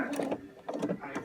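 A sewing machine ties off a knot stitch in a few quick, close mechanical bursts, rhythmic and fairly soft, with no talking.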